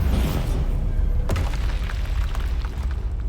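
A Bombarda spell detonates in the game Hogwarts Legacy with a loud, close blast and rumbling boom, followed by a sharp crack and a lingering crackling tail.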